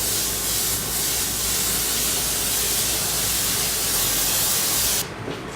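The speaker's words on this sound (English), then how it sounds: "I'm just going to clean out the airbrush that I was just using." A steady, close airbrush hiss sprays red paint continuously for about five seconds, then cuts off abruptly, leaving a quieter room.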